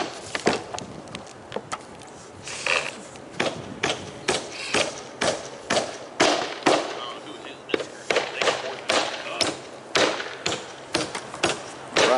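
Nails being driven into a mobile home roof during a roof repair, a rapid series of sharp thumps and bangs that is loud and close and comes at an irregular pace.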